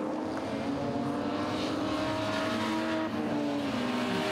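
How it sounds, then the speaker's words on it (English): BMW race cars at Hampton Downs roar past on track, a loud, continuous high-revving engine scream with shifting pitch as the cars pass close by. "Now Warwick Mortimer screams past the 103 of Mike Fenwick"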